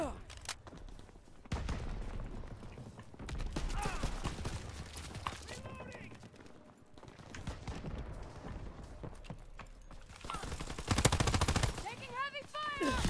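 Rapid gunfire bursts from the World War II shooter Call of Duty WW2, with repeated volleys and sharp shots spread across the stretch, mixed with game voices and effects.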